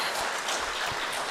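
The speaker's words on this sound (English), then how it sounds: "I request all of you to give a round of applause for the entire" Steady audience applause at a state-level conference on e-court initiatives, honouring an IT team, a dense, continuous wash of many hands clapping that fills the whole moment without any talk over it.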